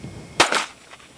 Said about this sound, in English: He won't believe Dennis is shooting a jam-o-matic here.